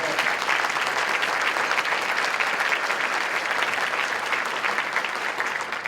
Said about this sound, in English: we just want to pause and give a huge round of applause to our partners.